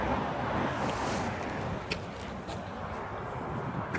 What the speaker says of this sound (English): So this is water that is moving.